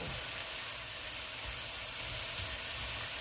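Water spinach (kangkong) sautés in a pan, giving a steady, even hiss of sizzling oil with a faint low bubbling underneath and no voices.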